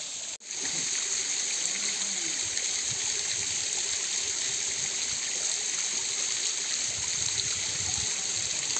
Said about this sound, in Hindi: पहाड़ों के बीच से पूरा पानी निकल रहा है, पहाड़ों के बीच से ही पानी आ ही रहा है।